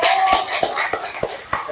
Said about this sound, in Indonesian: Baiklah, tepuk tangan semuanya.